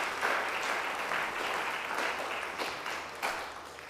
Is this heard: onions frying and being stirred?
no